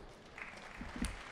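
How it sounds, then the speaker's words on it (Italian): Audience applause at the Leopolda political gathering, a soft, fairly distant patter of clapping that swells slightly near the end. "mi piace questo applauso"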